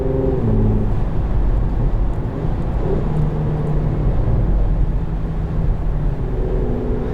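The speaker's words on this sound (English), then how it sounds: "Look at those downshifts. This PDK makes the best automatic out there." A 2021 Porsche Macan GTS with a PDK automatic gearbox, heard as a steady, loud engine drone with shifting tonal bands as the revs change through downshifts, alone without talk.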